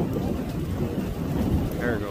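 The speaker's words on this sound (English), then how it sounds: "Got pea-sized hail." Pea-sized hail falls in a storm near Keeler, Saskatchewan, where a tornado was sighted, making a dense, steady roar of pelting ice with deep rumbling underneath for the whole stretch.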